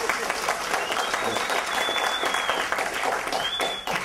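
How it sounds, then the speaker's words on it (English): Audience applause during a talk on a fathers' program, a steady dense crowd clapping lasting a few seconds throughout. "Yeah, you clap for that."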